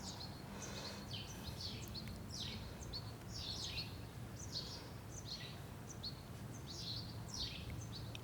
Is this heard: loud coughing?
no